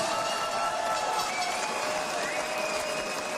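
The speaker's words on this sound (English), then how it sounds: "We get a nice round of applause out here for both of these fighters" A boxing crowd in San Antonio gives a sustained round of applause for both fighters after a ten-round bout, a dense, steady clapping that fills the hall with no voice standing out.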